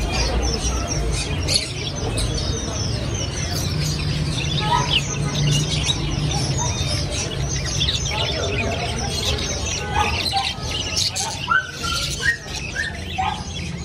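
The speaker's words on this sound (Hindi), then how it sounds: "तीतर है जी, तीतर। ये छोटी वाली चिड़िया है" Partridges and small birds chirp, tweet and squawk in dense overlapping calls at a Lahore pet market, steady and close amid busy crowd chatter and voices throughout.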